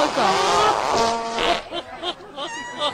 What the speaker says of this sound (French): Le pet le plus long du monde.